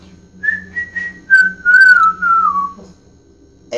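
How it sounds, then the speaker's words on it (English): A person whistles a short melodic phrase, a few brief notes and then a long, slowly falling tone, close and clear with no talk. "rate that whistle on a scale of 1 to 10"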